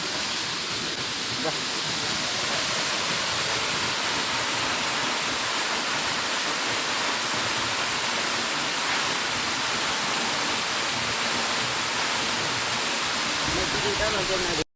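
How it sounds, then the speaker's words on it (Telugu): Mallem Gundam waterfall deep in the Nallamala forest, with water running low, makes a dense, unbroken roar of falling water that holds steady and loud throughout from close range. "మల్లెం గుండం జలపాతం అండి చూడండి ఎంత అద్భుతంగా ఉందా"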